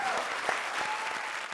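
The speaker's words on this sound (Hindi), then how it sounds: "जोरदार तालियां हमारे शेट्टीज के लिए" Audience applause at a televised Hindi comedy show, a steady dense wash of clapping from a studio crowd, loud and continuous with a few sharper claps poking through.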